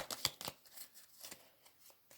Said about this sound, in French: Je vais rajouter des cartes du Petit Lenormand.